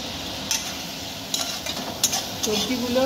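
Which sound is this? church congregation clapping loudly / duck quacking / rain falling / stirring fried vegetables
stirring fried vegetables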